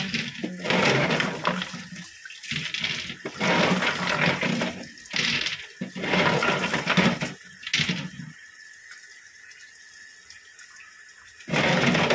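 Crystal chandelier pieces are rinsed in water: bursts of loud splashing and pouring alternate with short pauses, then a quieter spell before the water surges again.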